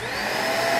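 A giant vacuum-cleaner-like dragon in Monster Hunter Rise: Sunbreak gives off a steady, whooshing suction drone with a high whine, continuous and fairly loud for under a second.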